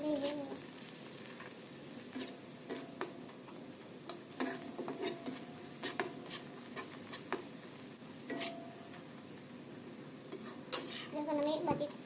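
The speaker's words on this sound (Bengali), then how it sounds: "এটাকে আমি আর কিছুক্ষণ ভেজে নেব।" Onion frying with red chili powder in a pan, stirred with a utensil: a steady low sizzle runs throughout, broken by repeated clinks and scrapes of the spoon against the pan at irregular intervals, close and fairly quiet.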